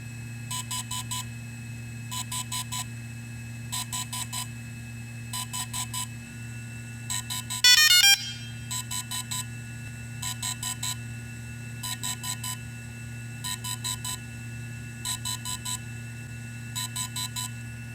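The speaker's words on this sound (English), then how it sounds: "you'll hear a series of beeps letting you know that the drone update is working." Regular groups of rapid electronic beeps from a DJI Inspire 1 or Phantom 3 drone during a firmware update repeat roughly every second and a half, with a brief rising chirp midway, over a steady low hum.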